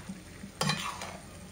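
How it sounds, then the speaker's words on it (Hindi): Mutton keema masala being stirred in a pan, a soft scraping stir with a light sizzle rising after a brief pause and trailing off, close and fairly quiet. "अभी इसे अच्छी तरह से मिक्स कर देंगे और इसे ढक कर हम 10 से 15 मिनट तक का पका लेंगे।"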